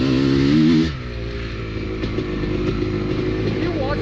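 A Sherco 300 dirt bike engine lugs at low revs, with a steady deep throb after a brief louder pull at the start, heard close and continuous.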